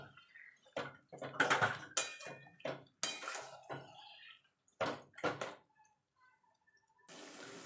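Mutton being mixed with spice paste in a pot for a Bengali mutton curry with potatoes, heard as a series of close, irregular clinks, scrapes and wet clatters, followed by a short pause and then a soft hiss.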